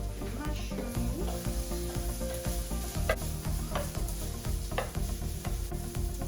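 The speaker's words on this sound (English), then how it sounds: "saute the onions until golden color" Onions sauté in a pan for creamy mushroom onion potatoes, a steady close sizzle punctuated by spatula stirs and scraping clicks, with no talking.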